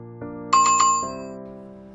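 Notification bell sound effect: a bright ding rung three times in quick succession over a sustained chime tone, close and clear, then a sharp sound at the end.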